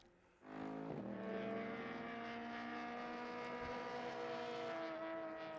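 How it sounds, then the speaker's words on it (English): Modified race cars are driven hard in a time attack event at Sonoma Raceway. A loud, sustained engine howl swells in after a brief quiet moment and holds steady and strong to the end. "you could really hear that these guys are pushing these cars"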